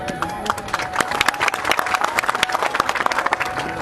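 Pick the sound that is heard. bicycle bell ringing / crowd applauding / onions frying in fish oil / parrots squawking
crowd applauding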